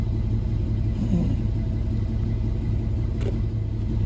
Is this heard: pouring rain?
no